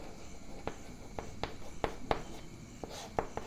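Marker or chalk writes on a board during a chemistry lecture, making a series of short, sharp taps and strokes in an uneven rhythm. The strokes are close and fairly quiet against a soft room background.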